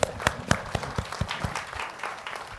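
Studio audience at a Korean television talk show on education reform claps to welcome a panelist, giving a short run of distinct, fairly close hand claps with a light, uneven rhythm.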